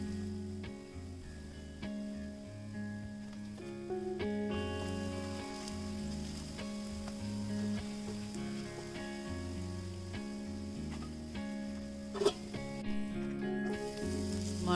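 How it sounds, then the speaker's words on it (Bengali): Sausages fry in a little oil in a pan, giving a soft, continuous sizzle and crackle that sits under louder background music at a low overall level. "আমি হালকা একটু তেলের মধ্যে সসেসগুলো একটু ভেজে নিব"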